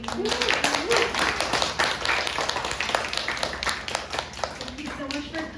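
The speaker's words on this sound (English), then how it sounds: "Can we give one last round of applause for all the readers?" Audience at a literary reading series clapping for the readers, moderate and fairly close with distinct individual hand claps, under ongoing talk.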